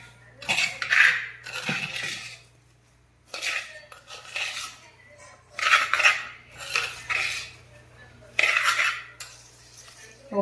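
A metal spoon scrapes and clinks against a pot while mixing sardine curry with salt and pepper, in several short, bright bursts separated by quiet pauses, close up.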